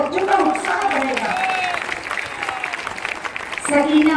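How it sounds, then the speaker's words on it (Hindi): Audience clapping at an outdoor public meeting in Azamgarh, held for a tree-planting campaign where schoolchildren are honoured: a steady wash of applause rises and fades while someone speaks over a loudspeaker. "अगर आप ताली बजाते रहेंगे तो बच्चों का उत्साह बढ़ेगा।"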